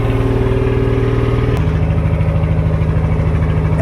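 Steady loud boat engine drone with a low harmonic hum, shifting pitch slightly partway through, continuous and close with no talking, near a crowded snorkeling area off Boracay Island.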